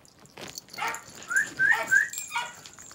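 Dogs at home giving high whimpers and yips with a few short barks, close and fairly loud, arriving in irregular bursts with brief gaps between them.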